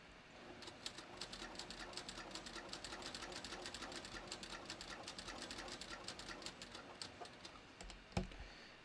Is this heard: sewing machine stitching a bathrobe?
yes